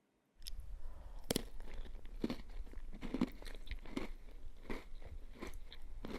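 Close crunchy bites and chewing of homemade chocolate chip cookies, a sharp crunch about every second over wet mouth sounds, with no talking.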